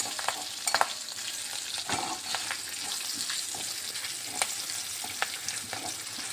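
Green chillies and cumin fry in oil with asafoetida in a pan, a steady, fairly quiet sizzle broken by occasional light stirring clicks.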